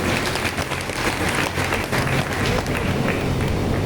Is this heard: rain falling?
no